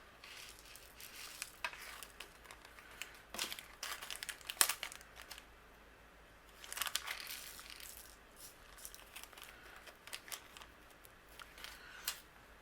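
Loose clear, orange and gray shaker toppings being poured into a guitar-shaped acetate window for a card, giving soft intermittent crinkling, rattling bursts close by, with no voice.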